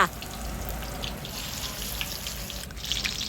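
Salmon pieces coated in salt-and-pepper seasoned batter frying in a pan of oil, a steady soft hiss and sizzle with scattered faint crackles, continuous and moderately close.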